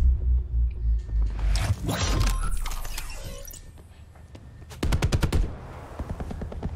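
A minigun fires in Call of Duty Black Ops 4 in rapid, dense bursts, loud and close, with a pause before a final sharp volley of rattling shots.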